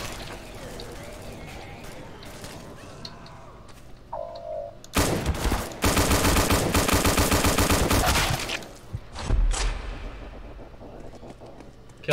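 Gunfire in the multiplayer shooter Treason: scattered shots at first, then a long, loud burst of rapid automatic fire and a few final shots, while people talk.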